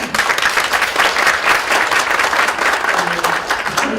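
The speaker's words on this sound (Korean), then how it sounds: "박수 한번 보내주실까요?" An audience at a 2014 Gyeonggi Province disability welfare conference applauds with a continuous, fairly loud wash of many clapping hands, with some voices mixed in underneath.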